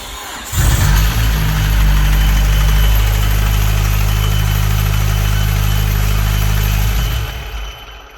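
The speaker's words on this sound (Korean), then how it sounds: "앞에서 엔진 소리 난다" A tuned 330 hp turbocharged Hyundai Avante fires up with a sudden loud burst, then settles into a steady, deep, rough idle heard up close from the front, which fades out near the end.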